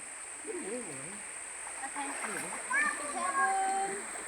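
Splashing water in the Julau river as people bathe with children, a steady rush of the stream underneath while kids' voices chatter and squeal close by throughout.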